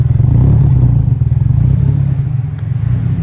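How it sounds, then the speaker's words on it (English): A deep, rumbling turbo Nissan Silvia S14 race car engine idling at low revs, loud and close, with a rapid pulsing throb throughout. "you can hear kind of how it sounds on a low RPM rev"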